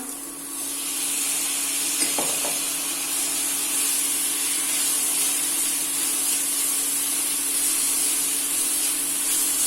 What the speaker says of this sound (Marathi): मेथी परतल्यानंतर आता मटार टाकूया।